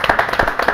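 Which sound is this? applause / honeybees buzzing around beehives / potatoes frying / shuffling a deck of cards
applause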